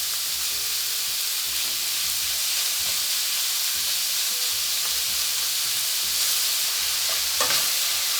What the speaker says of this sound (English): I put the meat, and don't overcrowd the pan with the meat.